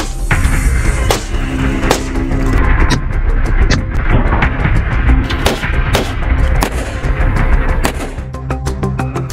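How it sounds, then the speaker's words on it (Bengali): Gunshots fired in a test at a bulletproof Mercedes car of the same model used by a head of government, with loud, sharp reports repeating irregularly over dense, rumbling background noise. "শেখ হাসিনার একই মডেলের মার্সিডিজ গাড়িতে পরীক্ষামূলকভাবে গুলি করার একটি"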